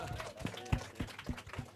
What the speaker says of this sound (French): On peut l'applaudir très fort, Gaëtan.